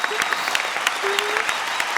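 Steady clapping from a TV comedy show studio audience, a dense patter of many hands sustained throughout at moderate level, with a faint voice underneath.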